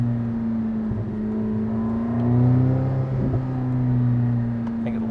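From inside a Corvette ZR1, the exhaust burbles low and steady with a few pops, the engine drone rising and falling gently at low RPM.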